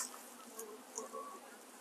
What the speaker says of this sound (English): just a couple of bees